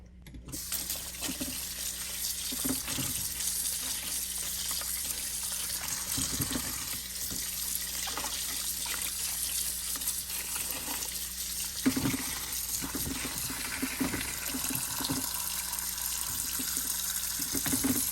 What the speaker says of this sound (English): In the meantime, I'm going to wash the cucumbers.